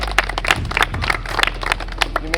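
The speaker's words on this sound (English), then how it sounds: "give yourselves a round of applause" A group of people claps together in applause for the winners of a challenge-show round, a steady, dense patter of hands close by that holds evenly throughout.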